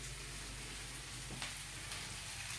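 Smoked pancetta and onion fry in a pan, giving a steady, quiet sizzle with a soft crackle and the occasional brief stir, and no one talking.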